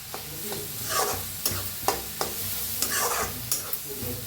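Vegetables, coriander and spring onion greens for egg fried rice are stirred in a sizzling pan, with repeated sharp spatula scrapes and taps in an irregular rhythm over a constant frying hiss, close up, no talking.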